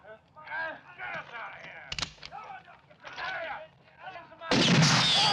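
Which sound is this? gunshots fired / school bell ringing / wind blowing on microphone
gunshots fired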